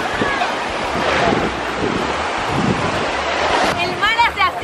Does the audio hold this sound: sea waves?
yes